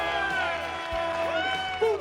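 Crowd at a classic car auction cheering and clapping, with an enthusiastic roar and loud speech mixed in close by.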